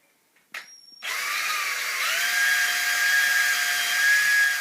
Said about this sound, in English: drill hole same size as the cable